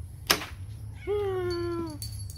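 A cat gives one clear, drawn-out meow, close by, over a low background hum, with a brief sharp click just before it.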